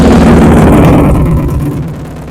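A loud, rough motorcycle engine roars close by with a deep throaty, poppy exhaust rumble that gradually fades.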